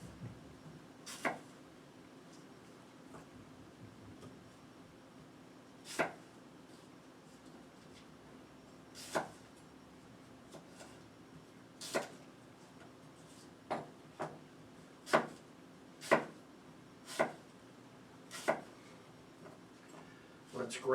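Knife slicing an apple on a cutting board, a series of sharp isolated cuts that start sparse and quicken into a steadier rhythm, close and crisp over a quiet room.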